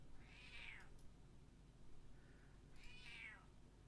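A cat meows twice, a few seconds apart, each call a clear drawn-out cry with a soft faint mew between them, heard over quiet low hum.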